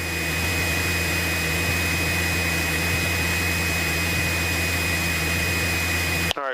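Light aircraft engine in flight with power added, a loud steady drone with a constant high whine that fills the cabin throughout, cutting off abruptly at the end.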